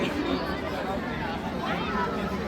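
Dense crowd babble fills the space at the Goda Maha Aarti riverside ceremony in Nashik, a steady close hubbub of many overlapping voices with no single speaker standing out.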